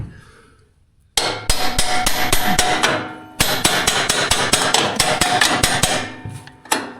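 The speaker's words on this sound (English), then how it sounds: "You gotta get the hammer and tap it in." A hammer taps a pin into place on a Kubota BX2380 tractor, giving two close, loud bursts of rapid metallic strikes separated by a short pause, each blow ringing briefly.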